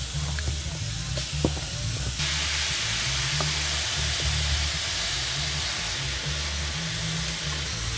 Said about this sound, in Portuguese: Colocar a carne agora para dourar